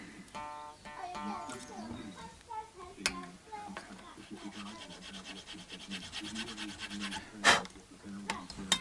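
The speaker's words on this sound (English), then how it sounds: "It's making sort of fluffy plastic dust, but it's hard to know exactly how it's cutting, just that it is." Filing a plastic part during a Cort G250 guitar setup: short rasping strokes repeat close up under a person talking, with a few sharper ticks and one louder scrape near the end.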